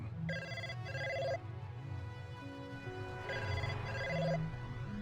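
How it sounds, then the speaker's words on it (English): A phone in the Blade Runner video game rings in two repeated bursts of electronic trilling separated by a pause, fairly loud over a low ambient background hum, with no talk. "Okay, someone's calling me. Is it this my phone?"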